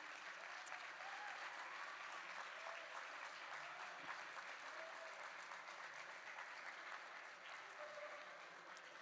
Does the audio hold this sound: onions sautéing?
no